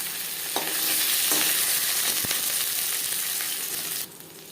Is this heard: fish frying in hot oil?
yes